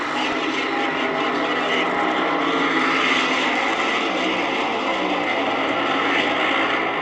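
Fuel-injected 440 cubic inch Chrysler engines in funny cars roar at a 1971 AHRA drag racing event, a loud, sustained, unbroken engine drone throughout.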